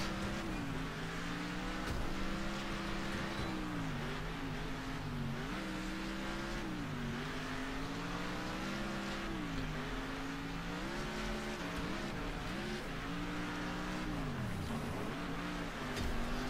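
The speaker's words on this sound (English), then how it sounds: "I'm a lot better at the lower horsepower engines, so I can kind of accelerate off the corner easier, otherwise you just kind of spin out." A race car engine in the early-access driving game Next Car Game drones loudly and without a break, its pitch rising and falling as the car accelerates out of corners and shifts gears, with faint tire noise and no talk.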